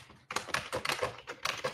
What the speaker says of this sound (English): We hear you're typing.